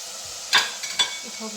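A steady sizzle of ginger garlic paste frying in a pan, with a couple of brief scraping stirs near the middle.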